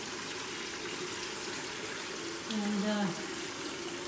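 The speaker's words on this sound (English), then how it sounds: "We got the garden hose coming in." A garden hose runs into an Aquarest Premium 600 spa as it fills, a steady wash of flowing water throughout, with a person briefly speaking over it near the end.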